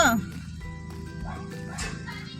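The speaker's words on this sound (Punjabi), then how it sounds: "ਇੱਕ ਕੁੱਤਾ ਬੈਠਾ ਹੈ" A dog gives a short high yip or whimper at the start, faint and brief, with people talking continuously over it.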